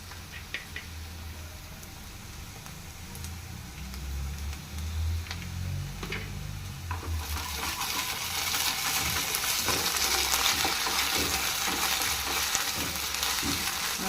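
Ginger garlic paste and masala frying in a pan for a chamadumpalu dish, a steady close sizzle that swells louder partway through, with a few light ticks of stirring and no talking.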